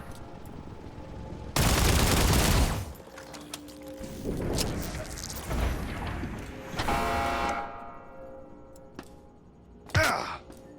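Gunfire in a video game comes in a loud, sharp blast, then more shots and rumbling booms at varying loudness, ending in a final short crack, with no talking.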